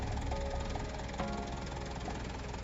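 Deep, guttural engine rumble drifting through a cave in a horror video game, a steady, distant drone with faint knocking vibration throughout.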